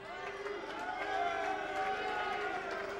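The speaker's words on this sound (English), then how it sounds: "you can hear the crowd's reaction to that. The boos, the applause" A crowd reacts to a draw at a boxing match between Craig Docherty and Lee Armstrong, a steady, distant wash of booing and applause that runs evenly throughout, with a voice speaking over it.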